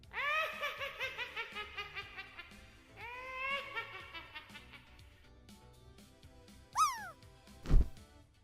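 A cat meows in a rising, squealing call near the end, loud and close, preceded by long stretches of harmonic, laugh-like tones and followed by a short thump.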